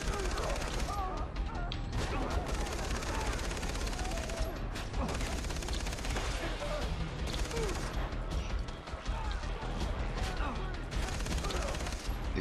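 Machine gun fire in Far Cry 3 rattles in loud, dense, continuous bursts of rapid shots, with brief gaps, crashing impacts and scattered voices underneath throughout.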